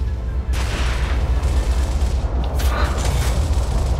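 Shotgun gunfire in the Gears of War video game: loud, dense battle noise with booming shots and clattering mechanical bursts over a steady rumbling din, a sharp blast near the middle.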